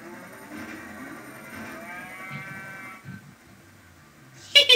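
Cows moo in a drawn-out, overlapping chorus from the Bovine Blitz weapon in the video game Worms Ultimate Mayhem, heard over steady game background noise and ending in a sharp burst of effects.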